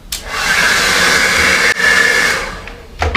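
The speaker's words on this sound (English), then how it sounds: "One hairdryer" A hair dryer blows loudly and steadily close by, with a brief click mid-way and a clatter as it ends.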